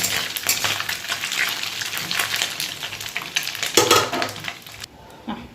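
Small chuno fish fry in hot oil with a steady, dense crackling sizzle that runs loud and close for nearly five seconds, along with occasional stirring scrapes, then stops abruptly and leaves a quieter tail with a brief clink near the end.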